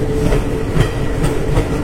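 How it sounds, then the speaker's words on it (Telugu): Steady rumbling train noise with rhythmic clatter of wheels on rails, loud and close, heard from the Azad Hind Superfast Express running alongside a goods train in the same direction, several carriages rolling continuously. "గూడ్స్ ట్రైన్ మన ట్రైన్ సేమ్ డైరెక్షన్లో వెళ్తున్నాయి పక్క పక్కనే"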